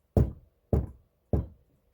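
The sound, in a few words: loud knocking at a door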